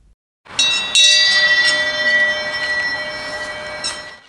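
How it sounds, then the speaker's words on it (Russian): A memorial bell rings in tribute to those killed on the fronts of the Great Patriotic War, with repeated sustained metallic strikes leaving long ringing overtones that hang and slowly decay, fairly loud and without voices. "Колокол звонит в память о погибших"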